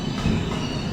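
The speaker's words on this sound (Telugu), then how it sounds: "ప్రజెంట్ ట్రైన్ అయితే ఆగింది మన పక్క ప్లాట్ఫామ్లో" A train stands at the next platform of a railway station, its heavy low rumble and wheel noise droning steadily and fairly loud.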